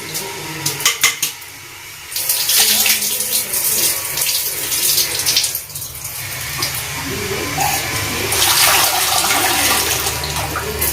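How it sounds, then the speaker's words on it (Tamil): Running water washes soil off during rasamani preparation, splashing and gushing close by with occasional metallic clinks of a vessel and surges in loudness. "தண்ணி வந்து நல்லா வெள்ளையாக வர்ற வரைக்கும் நம்ம கழுவணும்."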